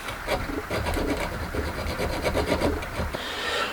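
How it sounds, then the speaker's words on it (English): A hand file works a slot in a metal lampshade bracket, with rapid repeated rasping strokes close up, rhythmic and fairly quiet, with no voices. "we can now start and file the slot up a bit"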